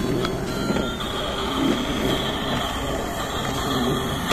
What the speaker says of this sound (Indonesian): sekarang kita akan mainkan kereta api mini